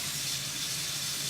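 A tap runs steadily, filling a pan with soapy water so it can soak. The flow is a continuous close hiss and gush of water with no voices.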